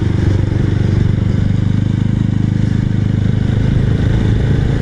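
A BSA Bantam or Goldstar 650 motorcycle exhaust while riding, heard as a loud, steady, close engine drone with a rapid pulsing thrum that holds continuously throughout, without talk.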